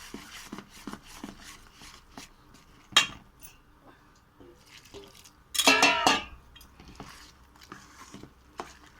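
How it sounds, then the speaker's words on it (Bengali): Malpua batter ingredients are mixed with warm water in a bowl, giving soft repeated tapping and scraping of a spoon, with two louder bursts of clattering mixing, fairly close and without talk. "ধীরে ধীরে ভালো করে আস্তে আস্তে এইগুলো মিশিয়ে নিতে হবে এই জলের সঙ্গে।"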